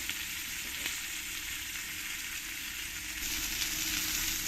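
Cauliflower florets and potatoes frying in oil in a pan for a cauliflower and katla fish curry, a dense, continuous sizzle that holds steady throughout at close range, with no talking.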